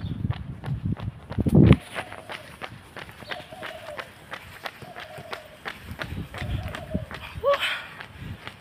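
Footsteps fall in a steady, quick rhythm on an outdoor path during a morning run for exercise. Each stride lands with a regular, fairly close thump, and a few voices and outdoor noise sit softly underneath.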